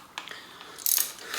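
Loosening bolts at the bottom of a RockShox Jett XC mountain bike fork's lowers with a hand tool, giving a few short, close metallic clicks and ratcheting ticks, quiet apart from a brighter rasping burst partway through.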